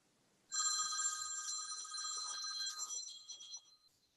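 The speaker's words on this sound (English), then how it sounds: "I hear the phone ringing" A telephone rings with a bright, trilling electronic bell in one sustained burst that fades out near the end, fairly clear against a quiet background.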